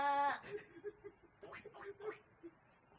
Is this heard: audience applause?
no